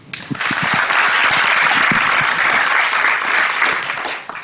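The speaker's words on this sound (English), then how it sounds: "So give Faisal a warm hand." A room full of people claps warmly for several seconds, the applause swelling quickly, holding steady, then tapering off.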